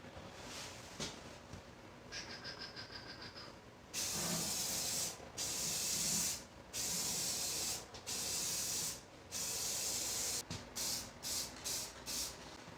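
Spray paint hisses in repeated bursts of a few seconds each, close and steady, as a second coat of 2X paint goes onto an old Sears Craftsman 12-drawer top tool box, with short quiet gaps between passes.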